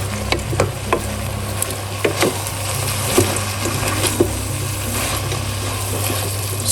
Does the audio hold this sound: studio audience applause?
no